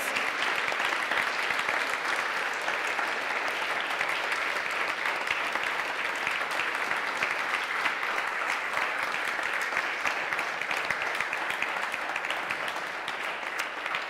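Sustained applause from a church congregation, dense and even clapping that holds at a steady level throughout.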